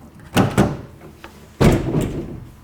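A Kuat pivot bike rack on the back of a truck swings open with a few sharp, close clunks and rattles: two quick knocks, a softer tap, then a heavier thud with a lingering rattle.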